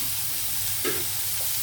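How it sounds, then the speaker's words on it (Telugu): Onions frying in a pan with turmeric and salt, a low even sizzle with one brief scrape of a spoon partway through. "ఉల్లిపాయలు కూడా కొద్దిగా వేగనివ్వాలండి"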